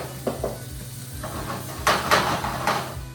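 A tortilla for a chicken quesadilla fries in butter or oil in a pan, giving a soft sizzle broken by scraping and clinks of a utensil against cookware, close by with no speech.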